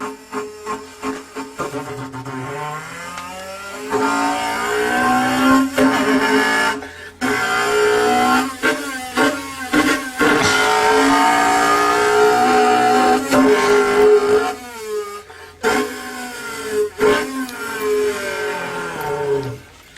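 A person imitates a revving car engine through a pipe, producing a buzzing, resonant drone that rises and falls in pitch, broken by short pauses.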